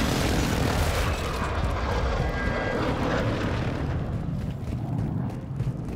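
A loud aircraft engine roars overhead as a plane approaches for a fire mission in Call of Duty Warzone 2, steady and close before thinning out toward the end, with no talking.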